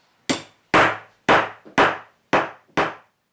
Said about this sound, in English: a fantastic woodpecker hammer